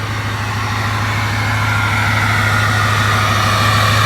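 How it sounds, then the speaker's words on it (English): Ford 6.0 diesel truck engine with a new cold air intake idling steadily and close, a low rhythmic rumble and diesel clatter with a faint whine, and no talk. "I am wondering if we're going to get any more turbo noise."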